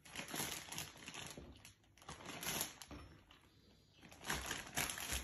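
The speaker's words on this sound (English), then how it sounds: "So I'll add the chicken into the plastic bag." A plastic bag crinkles and rustles close by as raw chicken pieces are added for marinating. The bursts are faint and uneven, with short pauses between them.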